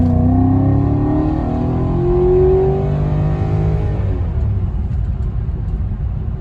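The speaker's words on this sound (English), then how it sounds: "Do a little downshift, slow it down a little bit to downshift." A car engine with a custom air intake revs hard during an automatic transmission kick-down. The loud, close engine note climbs steadily in pitch for about four seconds, then settles into a lower rumble.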